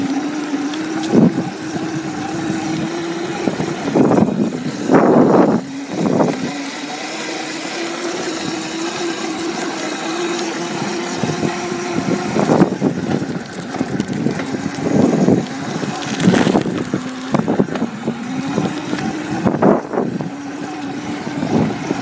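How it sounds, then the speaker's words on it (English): An old dirt bike engine running outdoors with a steady low buzzing drone, rising into several louder revving bursts and then dropping back to idle, with wind noise against the microphone. "We are starting up the old dirt bike."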